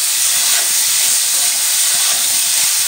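Shrimp tossed with salt and turmeric fry in hot oil, giving a loud, continuous, close-up sizzle with a dense hiss and no talking over it.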